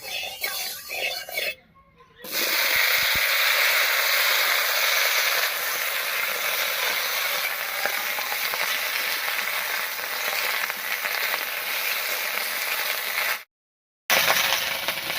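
Cut beans and cauliflower fry in mustard oil in a hot wok, giving a bright, steady hiss and crackle that runs loud through most of the stretch, broken by two brief silent gaps.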